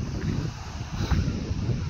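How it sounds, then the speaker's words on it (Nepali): Strong wind gusting over an open park where people play football, a steady rushing roar with heavy buffeting on the microphone throughout and no voices. "आज एकदम हावा चलेछ"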